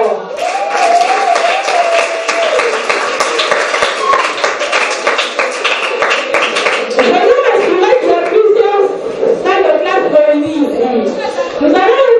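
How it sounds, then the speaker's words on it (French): Students at Lycée Pico clap together in a loud, dense burst of applause that runs steadily from start to finish, with cheering voices and chatter mixed in toward the end. "Si vous êtes là, j'aimerais entendre des applaudissements."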